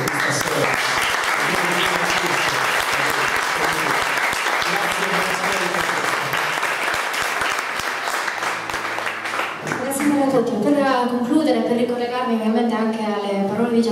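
Sustained audience applause at an Italian book presentation, steady and dense for about ten seconds before a voice speaks over it near the end.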